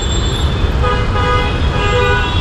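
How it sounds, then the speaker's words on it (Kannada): Loud, sustained vehicle horns blaring close by over a dense rumble of engines in heavy traffic, the honking overlapping almost continuously around a stalled Mahindra BE 6e electric car. "ಹಾರನ್ ಮೇಲೆ ಹಾರನ್ ಹೊಡಿತಾನೆ ಇದ್ದಾರೆ."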